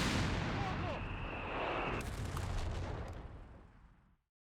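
Artillery barrage in the Company of Heroes 3 video game: a dense rumbling roll of heavy blasts with crackling debris, loud and sustained for a few seconds before tapering off abruptly.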